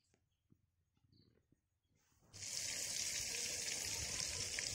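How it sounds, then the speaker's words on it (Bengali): Salt-rubbed fish, cut from a large catla, drops into hot oil in a village kitchen, setting off a loud, steady hiss. A quiet stretch of faint clatter comes first, then the dense sizzle starts abruptly and runs on without letting up. "মা মাছগুলোতে নুন মাখিয়ে রেখে দিয়েছে এখন ভেজে নিচ্ছে"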